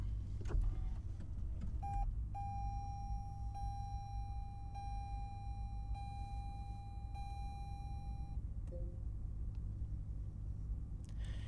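A 2020 Lexus ES300H hybrid powers up with brake held and push-button start: a low steady rumble beneath a soft sustained electronic tone and a few quiet beeps, with no engine roar.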